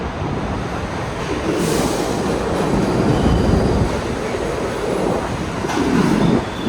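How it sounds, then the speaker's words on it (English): Distant subway trains rumble along the tracks at New York's Canal Street station, a steady low roar with faint squeals as the cars round a bend. "You can hear the trains turning down here."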